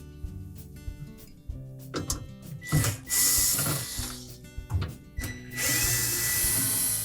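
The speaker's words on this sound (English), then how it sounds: "we're next going to remove these 4 retaining screws that secure that evaporator cover" A power driver whirs in several short bursts, backing out the screws that hold the evaporator cover inside a Whirlpool refrigerator, with brief pauses between runs and a longer final spin, close and fairly loud.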